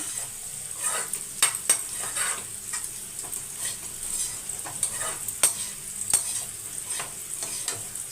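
Cooked lemon rice is stirred and tossed in a metal pan, soft scraping and shuffling broken by sharp clinks of a spoon against the pan, close up with a faint sizzle and no talking.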